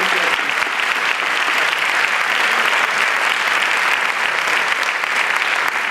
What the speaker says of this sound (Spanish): les pido de nuevo un fuerte aplauso por el esfuerzo y el cariño que han puesto en este concierto